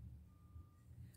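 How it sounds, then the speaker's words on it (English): Reversing trucks outside give off a steady high electronic beep, thin and faint over a low rumble of traffic noise. "Sorry for the beeping. There's some trucks in reverse outside."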